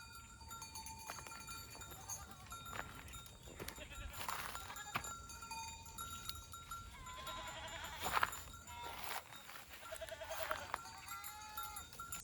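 Sheep herded by a village family through a park, with scattered bleats and livestock calls, occasional clinks, faint and moderately distant, mixed with intermittent talk.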